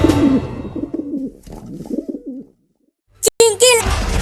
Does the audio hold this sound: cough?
no